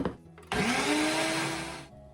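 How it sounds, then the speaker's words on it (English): A countertop blender whirs loudly for about a second and a half, blending a creamy potato salad dressing with sour cream and eggs, starting abruptly with a sharp rising motor whine and then cutting off, alone with no voices. "I'm gonna pop it on the blender and I'm gonna blend it for about 30 seconds until it's smooth."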